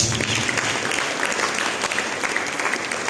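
A church congregation applauds during a sermon, many hands clapping in a full, continuous roar that stays even and fairly loud from start to finish.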